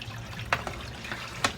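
Water trickling and splashing steadily in the filtration of an axolotl community tank, with a low continuous flow and a couple of sharper splashy drips standing out, close by and with no voices.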